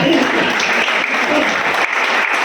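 A steady burst of audience applause at a Hindi humor poetry gathering, dense clapping from many hands filling the whole clip at an even loudness.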